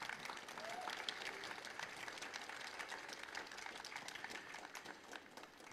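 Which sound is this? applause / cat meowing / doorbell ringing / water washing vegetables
applause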